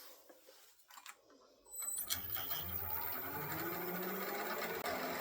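A wood lathe spins a small scrap offcut at about 1200 RPM while a spindle gouge roughs it down, starting quiet and then breaking into a steady, continuous cutting chatter and hum that stays close and loud to the end.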